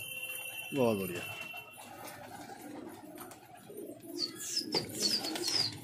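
Racing pigeons are let out of their loft on a windless day. A single close coo rises early, followed by scattered chirps and soft fluttering, with muffled voices in the background.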